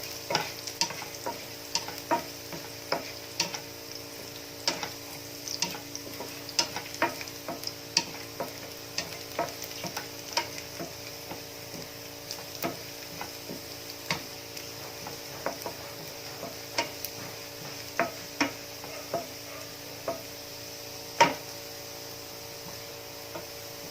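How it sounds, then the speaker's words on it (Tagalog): Crushed garlic fries in hot oil until golden brown, a steady low sizzle with scattered sharp pops and light utensil ticks spread across the whole stretch, close and without talking. "Antayin natin mag-golden brown yung ating crushed garlic."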